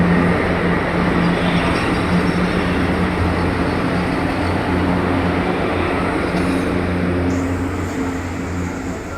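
A goods train loaded with coal rolls past close by, a loud continuous rumble and clatter of wagons on the rails that holds steady for the whole stretch and eases slightly at the end.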